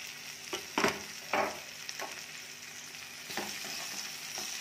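Tomatoes added to sautéed onions in a pan for a sprouted matki curry, with a steady close sizzle of frying and a few louder bursts as the spoon stirs and scrapes, no one talking.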